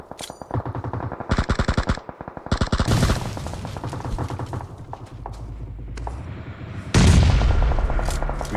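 Bursts of automatic gunfire spray in an esports shooter video game match, loud rapid volleys in short bursts with sustained firing and dense shot textures later, no talk over it.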